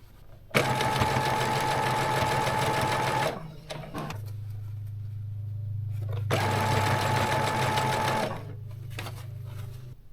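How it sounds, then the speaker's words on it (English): A sewing machine stitches scrunchie fabric with the right sides together in two long steady whirring runs, separated by a brief pause and a lower motor hum, loud and close with no talking. "So I'm just gonna keep folding and sewing as I go."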